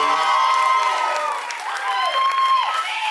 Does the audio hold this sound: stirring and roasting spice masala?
no